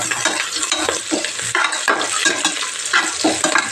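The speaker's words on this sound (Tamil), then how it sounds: "ஒரு 50 ml தேங்காய் எண்ணெய், அப்புறம் கடுகு, வெங்காயம், கருவேப்பிலை, இஞ்சி பூண்டு இது எல்லாமே போட்டு நல்லா ஃப்ரை பண்ணிக்கணும்." Mustard seeds, onion, curry leaves and ginger-garlic frying in coconut oil for paruppu sadam, a steady loud sizzle with repeated stirring scrapes of a spoon in the pan, no talking.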